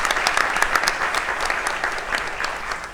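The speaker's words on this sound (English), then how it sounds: "let's give them a round of applause and congratulate them" An audience at a community forum on media, politics and society applauds, a dense steady wash of clapping from many hands that carries on for the whole stretch.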